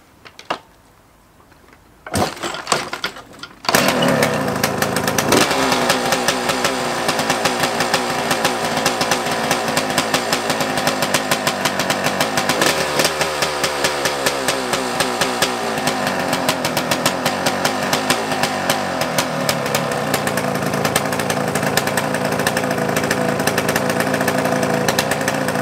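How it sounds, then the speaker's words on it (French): After a few kick attempts, a TM 300 two-stroke dirt bike engine sputters to life and runs loudly, a buzzy rattling idle that revs briefly before settling. "Comme vous avez pu voir, la moto elle a démarré"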